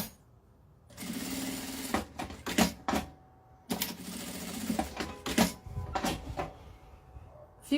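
A sewing machine stitches along the edge of fabric with batting while a men's oral hygiene case is sewn, running in short, loud mechanical bursts separated by brief pauses, close by and with no talking.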